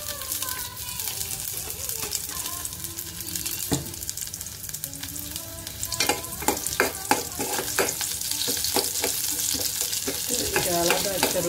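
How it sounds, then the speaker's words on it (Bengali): Garlic and panch phoron tempering spitting in hot oil for a village-style pui dal with prawns: a crackling sizzle under a string of sharp spatula clacks and scrapes that grows busier toward the end. "আমি রসুন পাঁচফোড়ন দিয়ে একটা ফোড়ন দিয়ে দেবো"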